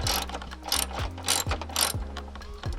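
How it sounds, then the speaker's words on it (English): A ratchet turns a car's ECU cover bolt during a detent spring install, giving rhythmic, close clicking strokes about every half second, each a loud rapid ratcheting burst. "now I'm doing the ECU cover bolt"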